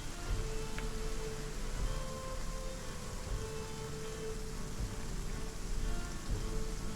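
Steady, even rain patters on surfaces in a Viking village-building video game, a continuous soft hiss with no voices.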